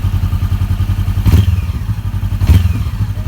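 A Honda CB500X motorcycle with an Akrapovic aftermarket exhaust idling with a throaty, pulsing exhaust rumble, close and loud, with two brief revs or clunks breaking the steady putter.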